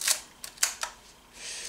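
Mechanical shutter of a 1960s Nikomat FN SLR film camera, heard as a few crisp, close clicks and one thunk in short succession, followed by a soft winding whir.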